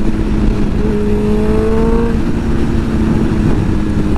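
A Suzuki GSX-R 1000 sport motorcycle revs hard as it accelerates into a wheelie, its rising engine whine climbing in pitch over a steady loud roar, with no talking.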